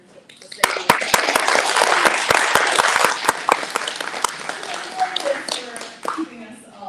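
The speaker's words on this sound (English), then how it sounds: "I'd like to ask for a round of applause for Cindy and her team" Applause from an audience at an annual meeting: many hands clapping steadily for several seconds with sharp individual claps standing out, then tapering off near the end.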